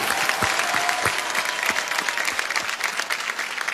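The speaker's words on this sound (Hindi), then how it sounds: "उनके लिए एक जोरदार ताली बनती है सर" Studio audience applause at a television quiz show, loud and dense clapping with sharp individual claps standing out, sustained throughout before easing slightly near the end.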